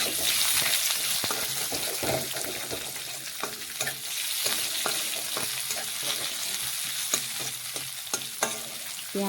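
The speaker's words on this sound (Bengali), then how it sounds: "এখন কিছুক্ষণ সময় নিয়ে পেঁয়াজ একটু লাল লাল ভেজে নেব" Chopped onions frying in a pan, slowly browning: a continuous close sizzle with frequent light clicks and scrapes from stirring throughout.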